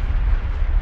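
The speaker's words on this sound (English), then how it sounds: "the explosions are still happening over here" Rumbling TNT explosions in Minecraft roll on in a loud, continuous low boom with no talking over it.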